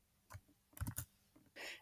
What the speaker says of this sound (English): And then you can just start typing your email.